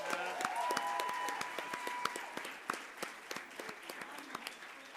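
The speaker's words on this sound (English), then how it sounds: "Let's clap for them." Conference audience at an international gathering in Durban claps after a winner is announced, a scattered run of distinct hand claps over room tones and faint voices, thinning into sparse individual claps toward the end.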